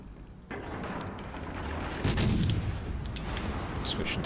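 Naval guns of HMS Albemarle in World of Warships Legends fire a volley, heavy booming blasts kicking in and swelling into a louder rumbling crack midway, with a faint voice beneath.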